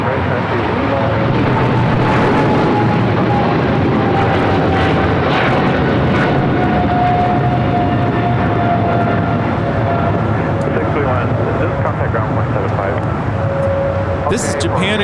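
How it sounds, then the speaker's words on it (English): A Japan Airlines Boeing 777, one of the original prototypes, takes off from LAX, its steady loud engine roar filling the whole stretch with a rising whine, heard at a distance outdoors. "This is Japan Airlines Flight 15 taking off to Tokyo Haneda. That was one of the prototype, original prototype 777s taking off there."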